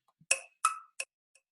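Four short, crisp drum hits in a sparse programmed pattern, each a sharp snap with a quick decay, the last one softer.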